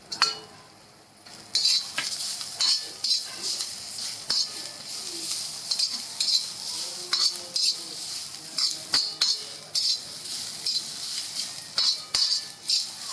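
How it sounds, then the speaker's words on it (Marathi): Ginger and garlic roast with browned onion in a pan for egg curry, giving a steady sizzle under repeated metal scraping and clinks of a spoon stirring, close and continuous after a brief quiet start. "आता याच्यामध्ये ना अद्रक आणि लसूण ते पण भाजून घ्यायचं टाकून"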